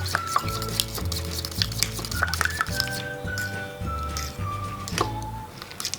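Eggs whisked briskly in a bowl for a Thai omelette with curry-paste hor mok flavouring, a close, steady clinking and stirring rhythm running beneath a sustained background tone.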